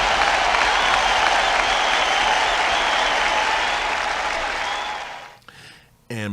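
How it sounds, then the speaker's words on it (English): Loud, dense applause from a crowd during a live show segment about Microsoft, steady for about five seconds before fading out, followed by brief voice sounds. "let's give them a hand clap"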